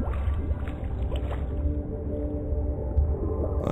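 A pump engine in Mata Nui Online Game runs steadily with a low, continuous mechanical drone and a rumbling throb. It sounds close and even throughout, with no speech.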